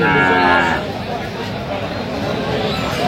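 A cow moos loudly at first, then fades into a noisy cattle market in Aftabganj, Dinajpur, with people talking in the background.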